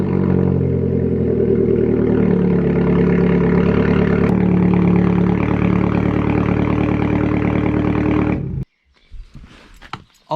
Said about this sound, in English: this is going to be the first time it's ever going to be turned on with the new exhaust